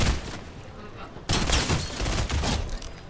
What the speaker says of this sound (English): Tell me if I'm shooting near.